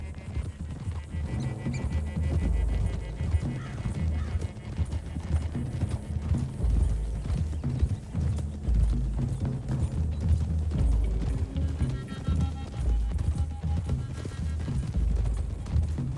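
Steady clip-clop of several horses galloping together in Red Dead Redemption 2, continuous and fairly loud, with an occasional whinny.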